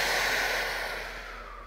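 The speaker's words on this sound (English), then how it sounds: "Breathe with me here" Heavy breathing during an arms and abs workout: a long, close, airy exhale that fades gradually across the moment, with no talking.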